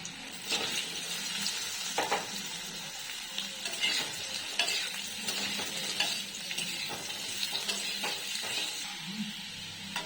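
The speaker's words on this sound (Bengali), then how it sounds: "আলুগুলো প্রথমে দিয়ে একটুখানি নেড়ে নেব" Potatoes stir-fry in oil with ghee, onion, turmeric, cumin, coriander and chilli, a steady sizzle broken by repeated scraping and clinking strokes of a spatula against the pan, close and unvoiced.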